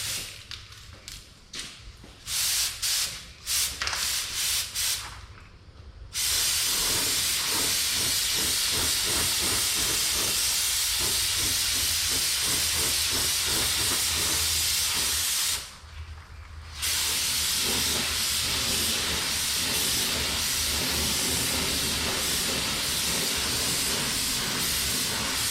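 A spray gun lays a top coat of colour paint on car bodywork, giving a loud, close, steady hiss in long passes, broken by brief pauses where the trigger is released, with no voices.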